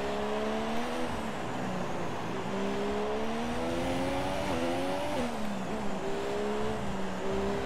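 Formula 1 race car in the F1 2017 video game, engine note rising and falling steadily through gear changes and corners, loud and continuous with no talk.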